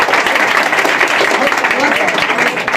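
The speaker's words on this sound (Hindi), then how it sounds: "ताली बजा दो तो नहीं खाली" An audience at a coaching-centre award ceremony claps loudly and continuously, a dense crowd applause with some voices mixed in.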